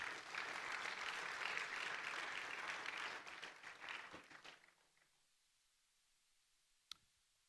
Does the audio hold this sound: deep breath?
no